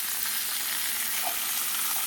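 Meat searing in a hot pan: a dense, steady, close hiss of sizzling fat that stays level throughout, with no voices or utensil knocks.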